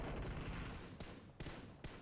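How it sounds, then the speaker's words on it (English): Dense, rapid bursts of automatic gunfire from a PUBG Mobile match rattle continuously, with a few sharper separate shots near the end, all fairly faint. "they're certainly putting out some gunfire"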